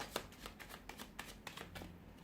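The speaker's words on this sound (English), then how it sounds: "We'll give the cards a shuffle and see what they predict for you this coming month." Rapid papery riffles of a tarot card deck being shuffled, several quick bursts in a row, close and fairly quiet with no talking.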